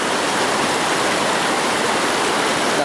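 River water pours steadily through the Cigintung dam, a loud continuous rushing wash near the listener with no talk.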